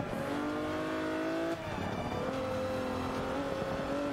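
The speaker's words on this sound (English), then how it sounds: "We're in the Renault Sport Clio, the V6 engine version." Renault Sport Clio V6 racing in Forza Motorsport 5, its engine droning steadily at high revs throughout, with a brief dip and gear change midway before pulling again, loud and close with no talk.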